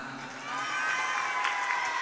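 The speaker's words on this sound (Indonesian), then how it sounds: "tepuk tangan." An audience of schoolchildren at a public event in Kebumen clapping and cheering for the regent, a dense steady wash of applause and shouts that swells slightly after the first half second.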